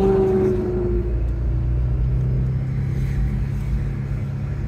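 A 2008 Audi RS4 fitted with a JHM exhaust and intake revs and pulls with a loud, deep rumble, a falling tone in the first second, then a sustained engine drone heard from inside the car.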